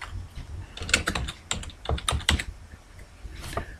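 Someone types a file name on a computer keyboard, with quick bursts of close, crisp key taps and a few pauses between strokes.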